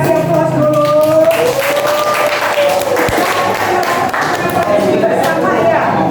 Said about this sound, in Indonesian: Boleh dikasih aplaus dulu.